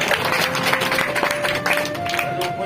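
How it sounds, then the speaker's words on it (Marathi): At a Mohol taluka hunger strike gathering, a crowd claps steadily in a dense, moderately loud patter, with voices and a faint tone running underneath. "टाळ्या वाजवा की टाळ्या वाजवा"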